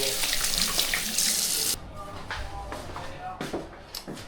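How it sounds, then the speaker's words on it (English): Hands are washed under a running tap in a home kitchen in Egypt: a loud steady hiss of gushing water that cuts off abruptly, followed by quieter dripping, splashing and handling sounds. "I first wash my hands"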